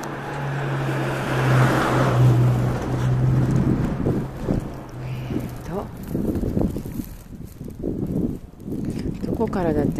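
A car passes along a street during an evening walk home, its broad wind-like rush filling the first half before fading, with a steady hum and a person singing and talking over it nearby.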